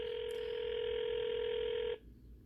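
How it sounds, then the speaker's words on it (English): A steady telephone tone sounds for about two seconds on a call that goes unanswered, then cuts off abruptly, leaving quiet line hiss. "they don't want to answer the phone call"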